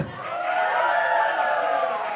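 A church audience at a thanksgiving day service cheering and shouting loudly in one brief, sustained swell of voices, with some clapping mixed in.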